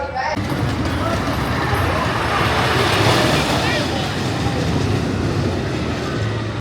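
A 1950 open roller coaster at Six Flags Great America rumbles along its track with a steady, loud rattling roar that fills the whole stretch, with a voice faintly under the noise.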